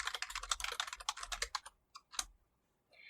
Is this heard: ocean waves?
no